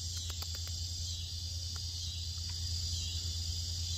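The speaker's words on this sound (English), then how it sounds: "trying to figure out what the hell those cicadas are" Cicadas in a garden buzz in a steady, unbroken drone that holds loud and constant throughout, with a few faint clicks underneath.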